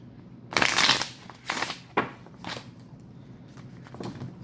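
A deck of tarot cards being shuffled close by, several crisp riffling bursts in quick succession, the first two longest and loudest, then softer shorter flicks trailing off.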